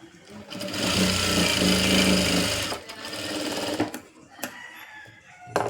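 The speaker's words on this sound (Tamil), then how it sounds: "இப்போ கெட்டியாக கெட்டி தையல் வந்து போட்டுக்கலாம்" A sewing machine stitches a blouse, running in one steady loud whir for about three seconds, then easing off into a slower run and a few short bursts with clicks.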